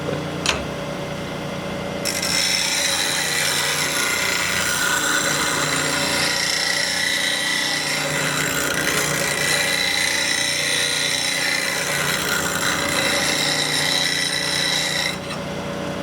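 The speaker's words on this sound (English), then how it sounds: "with a slow speed grinder, the reason for it is that it doesn't build up as much heat" Slow speed grinder sharpening a lathe turning tool, a steady, close grinding rasp that starts after about two seconds and holds continuously for roughly thirteen seconds before stopping, with no talking.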